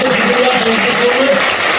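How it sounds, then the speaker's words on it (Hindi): An audience at a motivational business session in Bhopal claps loudly and continuously for themselves, with a voice heard over the steady applause. "एक बार जोर से ताली बजा दो अपने लिए।"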